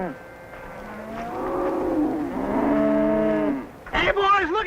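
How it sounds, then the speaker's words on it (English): Cattle lowing in a drawn-out series of moos, close and fairly loud, with a sharper bellow near the end, no talk over them. "either that boy is herding cattle on foot"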